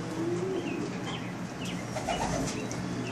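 Racing pigeons cooing inside a loft, soft low coos and a few chirps over a constant background hum, close by and moderately loud.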